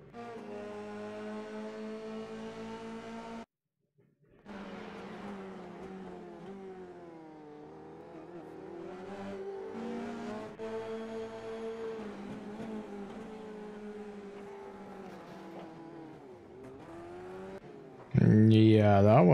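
Formula 3 race cars in the iRacing video game at Interlagos, Sao Paulo, give a loud, steady whining engine drone. The pitch rises and falls through gear changes, with a brief cut in the middle and a sudden louder burst at the end.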